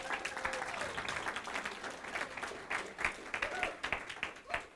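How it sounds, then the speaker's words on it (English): Scattered applause from a small meeting audience honoring a departing staff member, with uneven individual claps and some crowd murmur, moderately distant and fading into sparser claps toward the end. "So round of applause for Miss Nina Brown."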